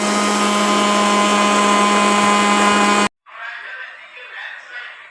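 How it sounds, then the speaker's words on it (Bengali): A mixer grinder whirs loudly as it grinds roasted spices, giving a steady, high, buzzing whine that runs for about three seconds and then cuts off abruptly. Softer, uneven rustling noise follows. "মিক্সিতে ঘুরিয়ে নিই।"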